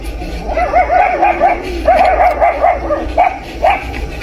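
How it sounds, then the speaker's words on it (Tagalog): Several farm guard dogs bark and yip in quick, rapid bursts close by, the volleys overlapping and pausing briefly before starting again. "Ang daming aso."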